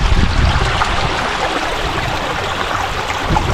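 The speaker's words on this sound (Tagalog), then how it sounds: "yung tubig ay pumapasok na" River water pours steadily into a crab trap area, a constant rushing, gurgling flow close by with no voices.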